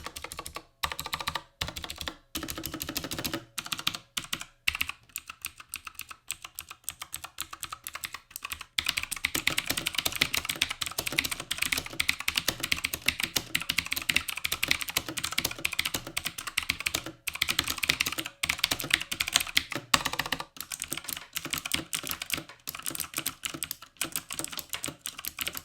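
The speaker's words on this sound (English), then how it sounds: "Let's get a quick sound test." Fast, continuous clacking of typing on a Redragon K561 Visnu mechanical keyboard with blue switches, loud and crisp up close, with brief pauses between bursts and no speech.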